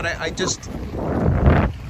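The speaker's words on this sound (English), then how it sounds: "Look how windy, man." Strong wind buffets the microphone while someone paddles a canoe across exposed open water, a loud gusty roar that builds toward the end, with a voice briefly talking over it.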